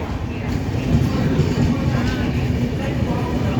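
Intercity Express train hauled by a WAP7 electric locomotive from the Lalaguda shed, a steady low rumble and rolling rail noise that continues without a break, heard from on board at a close, even level.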